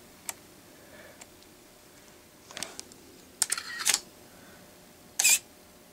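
Camera shutter clicks during a long-exposure shot of a man walking along a path, a few sharp isolated clicks spread out with a couple of louder bursts, close and otherwise quiet.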